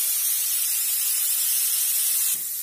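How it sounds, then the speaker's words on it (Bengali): Steady, loud hiss of fenugreek greens frying in a pan, a dense sizzle that runs without break and eases slightly near the end, with no talking. "আর একটু ভাজা ভাজা করবো"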